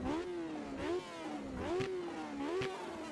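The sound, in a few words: race car engine revving in Automobilista 2 (video game)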